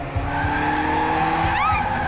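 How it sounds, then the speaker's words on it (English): Car tires squeal in a sustained skid within an animated show, loud and continuous against a rumbling engine and a busy soundtrack. "she's gonna get hit by a car"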